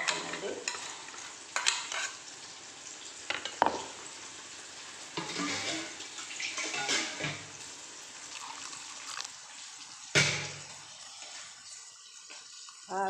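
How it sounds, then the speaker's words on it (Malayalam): Water splashes and gurgles close by as it goes into a mackerel curry in a pan, mixed with stirring clatter and intermittent sharp scrapes. Soft sizzling runs between the pours. "ആവശ്യത്തിനുള്ള വെള്ളവും ചേർത്ത്"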